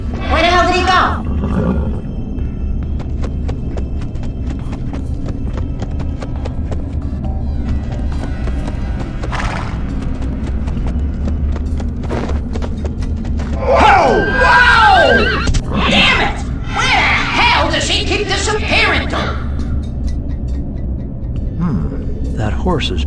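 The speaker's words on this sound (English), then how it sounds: "That horse is pretty jumpy." A jumpy horse in a video game neighs loudly in whinnying bursts over a constant background of game music and ambience, with no one talking.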